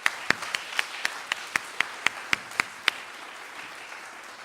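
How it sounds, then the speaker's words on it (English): A rhythmic, evenly spaced series of sharp claps at an induction ceremony for Murphy Scholars, roughly a dozen crisp hits close up over a soft bed of diffuse applause that fades out after three seconds. "Can we have a round of applause for those folks?"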